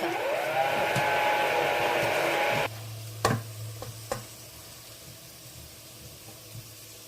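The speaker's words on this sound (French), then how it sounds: "on fait revenir nos oignons avec la sauce tomate" Onions sizzle loudly in tomato sauce in a pan with a bright frying hiss that suddenly cuts off, followed by a few clanks of a utensil against the pot.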